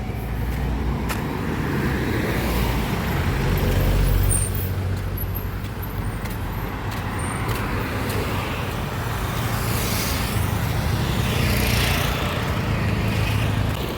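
Steady roadside traffic in Sri Lanka, with cars and heavier vehicles streaming past continuously at close range and occasional hisses of air brakes under the constant road noise.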